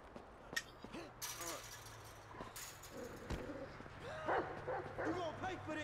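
A dog barks in Grand Theft Auto V, several sharp barks scattered through the clip alongside game ambience, with someone talking over it.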